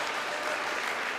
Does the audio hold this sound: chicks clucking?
no